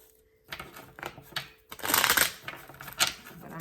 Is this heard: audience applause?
no